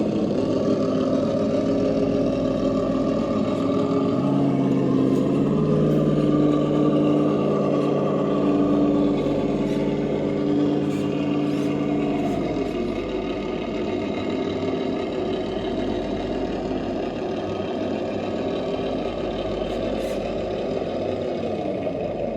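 A Traxxas TRX4 Bronco RC truck on stock tyres with brass upgrades drives a challenge course, its motor whining steadily throughout, rising in pitch and strain for several seconds midway, then settling back to a continuous drone.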